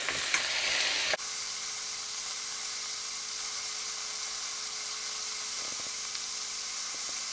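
Peppers frying in a pan for pepper steak, a loud close hiss and sizzle that jumps at the start and then settles into a steady even crackle, no voices.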